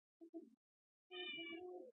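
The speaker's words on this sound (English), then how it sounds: "so if you hear something meowing, it's my cat" A pet cat meows twice in short, close calls, followed by a longer, drawn-out meow with a rising, wavering tone, all against an otherwise quiet room.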